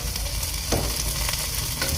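Onion and tomato sautéing in a pan, a steady close sizzle with light stirring scrapes, continuous and fairly soft.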